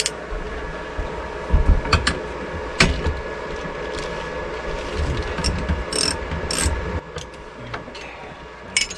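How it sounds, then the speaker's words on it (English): A ratchet wrench clicks in short irregular bursts up close as it unbolts a seat belt bolt of roughly 5/8 to 3/4 inch inside an RV, with metallic rattles between the strokes. "To get the seat off, we need to unbolt the seat belt."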